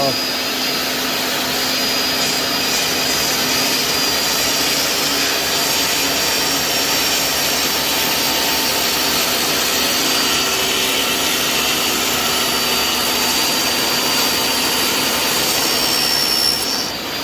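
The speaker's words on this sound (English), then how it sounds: "A saw width at a time, and then that way, doing it freehand, you'll have a perfect cut." A power saw cuts steadily through wood flooring freehand during a floor installation, a continuous loud whining, rasping drone that holds for the whole stretch with no break.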